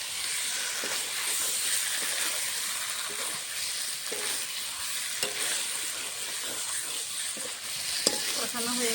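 Boiled and fried potatoes are sautéed in a spice masala, giving a close, steady sizzle and hiss with repeated scraping stirs through the nine seconds.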